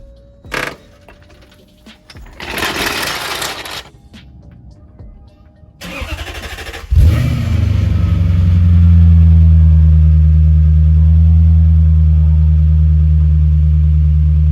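Some clanking and shuffling, then a Lexus SC400 engine with an aftermarket exhaust cranks and catches in cold weather, settling into a loud, deep, steady idle with a throaty exhaust tone.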